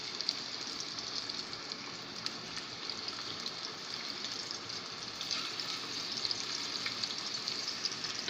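Seekh kebabs frying in ghee on a tawa over a medium flame, a continuous even sizzle heard close up and alone, with no talk.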